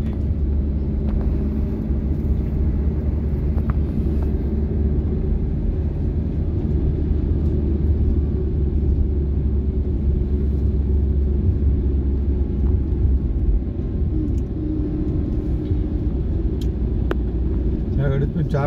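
A Maruti S-Presso small car heard from inside the cabin while driving: a steady low engine and road rumble continuing throughout, with people talking over it.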